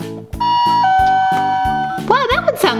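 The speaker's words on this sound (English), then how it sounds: "Let's ring the doorbell." A two-tone doorbell chime rings over a rhythmic musical backing, then a voice comes in near the end over the music.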